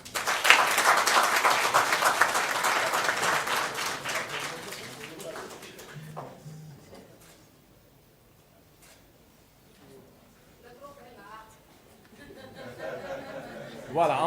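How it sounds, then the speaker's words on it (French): An audience at a Senegalese award ceremony claps loudly for several seconds, then the applause fades into quiet murmuring and laughter with people talking, before a fresh burst of clapping rises at the end. "Sous vos applaudissements"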